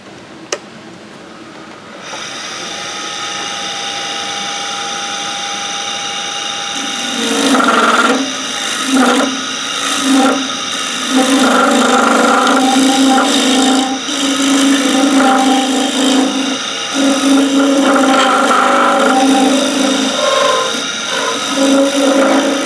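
A bowl gouge cuts away waste wood from a bowl turning on a lathe. A quiet motor hum comes first, then loud, rough cutting bursts that rise and break off repeatedly, close to the listener.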